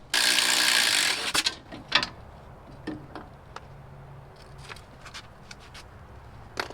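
An impact wrench rattles loudly for just over a second as it removes the 10 mm lower shock bolts on a Dodge Dakota, followed by scattered clicks and metallic ticks of parts being handled nearby.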